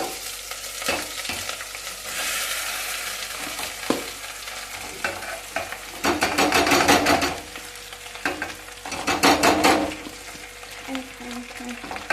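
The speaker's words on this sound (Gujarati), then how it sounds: "આપણા મિત્તલબેન કરે છે બટેટાનો વઘાર" Potatoes for masala dosa filling sizzle while being tempered in a pan, with scraping stirs and bursts of louder frying, faint voices in the background.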